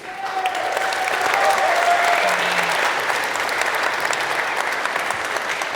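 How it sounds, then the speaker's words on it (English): Sustained applause from a large crowd at an event in Rome, dense and steady clapping filling the room throughout. "can we get a round of applause for this amazing city of Rome"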